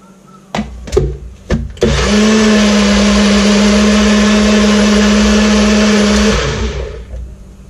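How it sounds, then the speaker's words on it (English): A few clicks and taps, then a loud blender roars steadily for several seconds mixing a sauce before winding down. "throw that back in the blender just to get everything mixed up"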